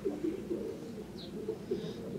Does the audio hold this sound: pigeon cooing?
yes